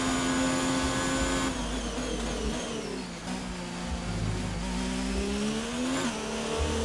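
A Ferrari Formula 1 car in F1 2019 drives onto the track at Spain, its high-pitched engine whine rising and falling through the gears. The engine stays close and steady, with a brief dip in the middle, and no one talks over it.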